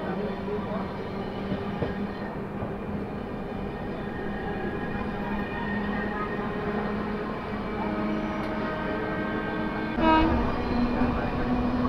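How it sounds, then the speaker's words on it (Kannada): The MGR Chennai Central–Hubballi Superfast Express rumbles past on an adjacent track, a steady close roar of wheels and wagons lasting throughout, with a sharp clatter near the end. "MGR Chennai Central SSS Hubballi Superfast Express crossing."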